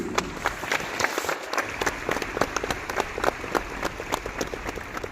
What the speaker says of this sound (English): if you want to clap hand, please